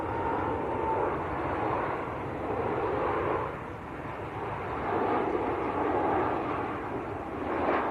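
A Ryanair airliner on short final approach to Manchester Airport, inbound from Madrid, gives a steady broadband engine roar that swells and eases slightly, continuous and fairly loud.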